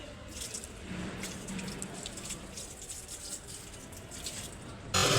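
Water poured in a steady stream from a bucket into a machine, a continuous soft splashing and gurgling heard fairly close, with no talking over it.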